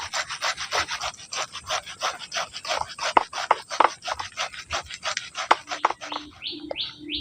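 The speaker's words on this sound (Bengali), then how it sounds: "বাকি তালগুলো এইভাবে করে ঘষে বের করে নেবো মাড়িটা" Toddy palm fruit is rubbed by hand to squeeze out its pulp, making close, wet, rasping strokes in a steady back-and-forth rhythm, with a few sharper scrapes and faint bird chirps near the end.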